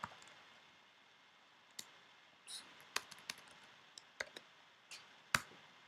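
Keys on a computer keyboard tapped while typing code, with faint, sparse and irregular clicks over a quiet room hum and no talking.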